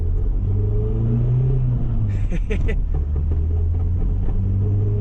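An Audi 80 petrol car engine idles with a steady low rumble and drone, close by and fairly loud, with a brief higher mechanical rattle partway through.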